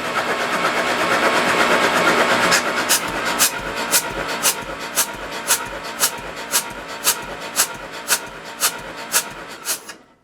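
A 1953 Jeep CJ3B engine being turned by its starter after sitting 30 years: a rough whirring start settles into a steady, rhythmic chug-chug of compression strokes, close and fairly loud, slowing and fading out without firing.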